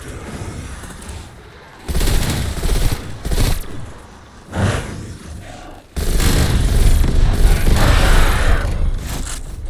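Repeated gunfire against zombies in Call of Duty Zombies, loud bursts and sustained volleys with booming impacts, starting after a quiet opening and turning dense and continuous in the second half.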